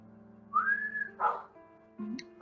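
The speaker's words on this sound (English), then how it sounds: "you guys hear someone like, as if they were blowing on a whistle" A long, clear whistled tone rises and holds, followed by a few shorter whistle-like bursts, all near and fairly loud over a faint low hum.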